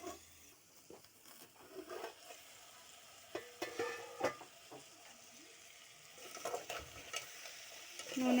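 Crab pieces frying in oil in a pan for crab curry, a quiet crackling sizzle with scattered spatula scrapes and stirring knocks, faint and close.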